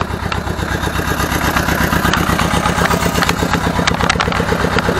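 An Ursus C-325 tractor, carrying a raised plough, runs during a ride with a loud, close, steady chugging diesel beat. Its dense rhythmic pulse continues without pause, and no voices are heard.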